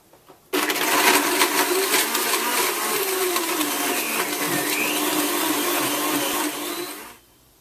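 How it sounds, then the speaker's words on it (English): A kitchen blender whirs on high speed while blending a smoothie, starting abruptly and holding a loud, steady, gritty roar for about seven seconds before cutting off. "Blend this on high for 45 seconds"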